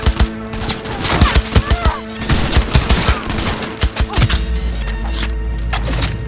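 A loud, close gunfight in Cyberpunk 2077, with rapid bursts of overlapping gunshots and automatic fire and heavy impacts, backed by a low rumble, and no voices.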